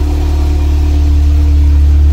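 Audi S1 engine running steadily just after start-up in a garage, a loud, close, even hum with a low rumble and no revving.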